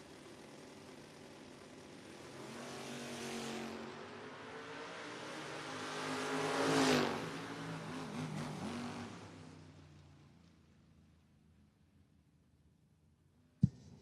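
At a drag strip, a Camaro and a second car race past, their engine roar swelling to a loud peak as they go by, then fading into the distance before a sharp click at the very end.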